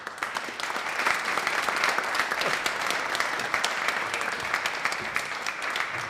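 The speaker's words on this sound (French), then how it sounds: "Et je vous demande d'applaudir très très fort Monsieur Marco Rastadali." Audience applause at a Swissquote finance talk welcoming a guest on stage, a steady, moderately loud wash of many hands clapping for several seconds.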